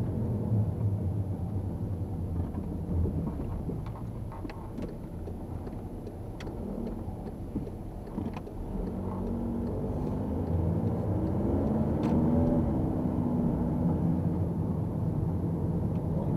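A car rolls through the streets of the village of Markt Wachenroth in Germany, its engine giving a steady, muffled low rumble with road noise that holds evenly throughout, with no talking.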